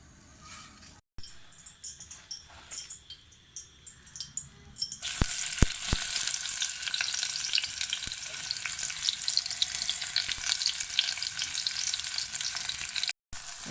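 Quiet kitchen sounds give way to a steady, crackling sizzle as half-moon sliced onions hit hot oil, continuing loudly after a few clanks.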